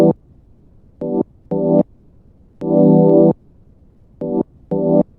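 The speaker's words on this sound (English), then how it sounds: "And the pad by itself sounds like this." Chopped synth pad chords in a lo-fi beat made in Ableton Live play solo, seven short sustained chord stabs in an uneven rhythm with one longer held chord in the middle, clear and up front against quiet background.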